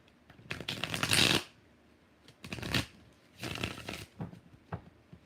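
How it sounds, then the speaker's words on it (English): Tarot cards are shuffled in three close, crisp riffling bursts separated by short pauses, each a rapid fluttering rustle. "Two more shuffles."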